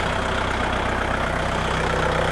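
A Kubota MU 4501 4WD tractor engine idles steadily and loudly up close, with a continuous low rumble and no pauses.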